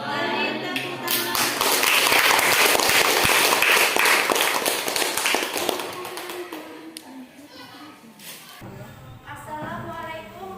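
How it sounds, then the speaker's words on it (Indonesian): Audience applause after a class group presentation, a dense patter of claps that peaks early, then thins and fades, with some voices and shuffling toward the end. "Beri tepuk tangan."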